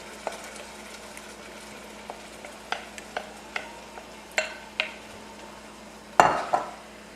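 Measured ingredients tipped into a pan for a black-eyed pea casserole: a run of light clinks and taps on the pan, then a louder rustling clatter near the end, close by with no talk.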